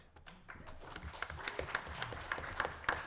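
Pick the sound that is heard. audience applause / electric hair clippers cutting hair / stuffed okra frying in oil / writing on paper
audience applause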